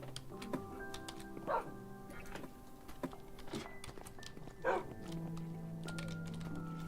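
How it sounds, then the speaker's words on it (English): Dogs in the Minecraft video game give a few sharp barks spaced out across several seconds, set against steady in-game tones with no one talking. "Don't wait until there's something in here to start barking so much."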